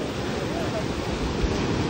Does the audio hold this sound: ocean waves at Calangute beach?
yes